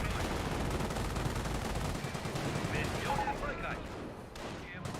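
Continuous battle gunfire from units in Company of Heroes, dense overlapping rifle and machine-gun bursts at steady loudness, easing slightly toward the end.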